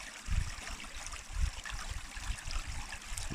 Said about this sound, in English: This water continues to flow.